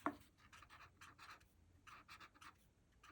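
Soft, dry scratchy rubbing of a blending stump on paper, in short repeated strokes with brief pauses, close and quiet.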